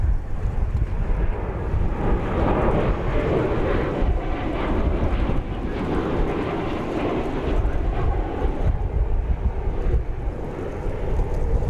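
An American Airlines Boeing 737-800 airliner arriving at DFW Airport produces a continuous, fairly distant low engine roar mixed with wind buffeting, steady throughout with no voices.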